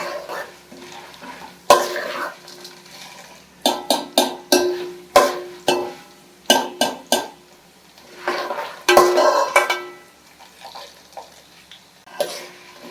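Spices frying in a pan, heard as sharp metallic clanks and scrapes of a utensil in clustered bursts over a faint low sizzle, close and intermittent, with short quiet gaps between.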